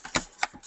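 Several quick separate clicks of keys being typed on a computer keyboard, close and fairly clear, with no voice over them.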